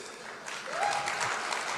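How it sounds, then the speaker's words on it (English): An audience claps for the AP IT minister at a gathering in America, the applause swelling after a quiet start into steady, dense clapping that fills the room, with no speech over it. "Please give a round of applause to our minister."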